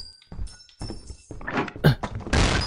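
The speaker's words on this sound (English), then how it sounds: "Flashbang." A flashbang goes off in the video game Lethal Company: a series of hard thunks and thuds builds to a loud, bright burst with a ringing tone near the end.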